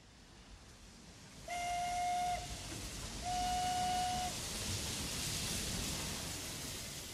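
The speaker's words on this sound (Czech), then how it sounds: "výjíždí do stanice Dessau vlak s parní lokomotivou" A steam locomotive's whistle sounds twice as the train pulls into Dessau station, two sustained shrill blasts standing clearly above a steady background of train and steam hiss.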